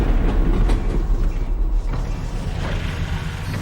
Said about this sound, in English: Did the train stop? It stopped, didn't it?